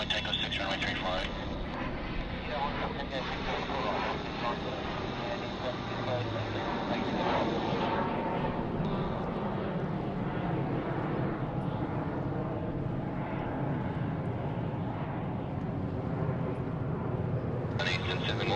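Aircraft at Sydney Airport make a constant broad roar of engine noise that swells and fades slightly, with radio-style voices talking over it.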